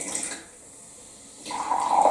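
Coca-Cola poured into a glass, a short fizzing splash at the start, a quiet gap, then a louder, steadier pour and fizz building toward the end, close by with no talk.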